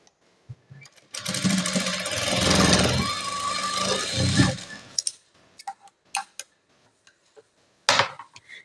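A sewing machine stitching a plain blouse runs in one steady whirring burst of about four seconds. Scattered clicks and handling taps follow, close by, with no talk.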